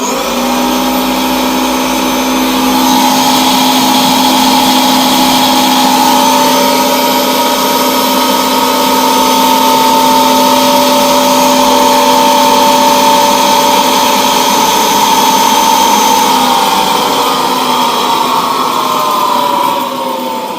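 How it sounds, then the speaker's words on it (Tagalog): A high-speed DC motor on an ebike, powered by a repaired 18650 lithium battery bank, whines steadily and loudly for about twenty seconds with a sustained high-pitched hum and no talking. "Ang lakas ka at ang bilis ng kanyang DC motor."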